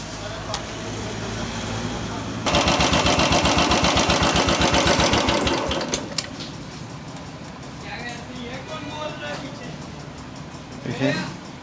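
A Royal Enfield Bullet motorcycle engine runs after an oil change, a loud close thumping idle that pulses steadily for a few seconds before settling into a quieter rumble, with someone talking nearby.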